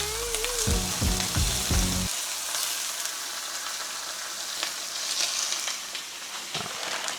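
Five bacon slices sizzle in a pan with a dense, steady hiss and crackle close by, opening with a few short clunks and scrapes as the slices go in, no talking.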